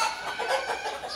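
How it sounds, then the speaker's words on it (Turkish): A rooster gives short, close clucking calls in a quick, uneven run, fairly clear and alone. "Horoz bu."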